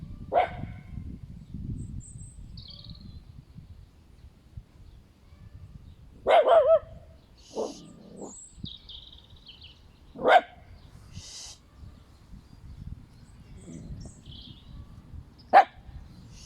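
A dog barks indoors during a pilates session, with several sharp, fairly close barks spaced irregularly over a quiet background, plus some softer whimpers and faint birdsong.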